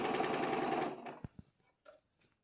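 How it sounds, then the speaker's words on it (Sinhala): Sewing machine stitching a hem on cloth runs in a fast, dense whir for about a second, then stops, leaving a few faint clicks and knocks. "මේ පුරුදු වෙනකන් මේ ඔයාලගේ ස්පීඩ් එක පුළුවන් නම් අඩු කරලා මහන්න"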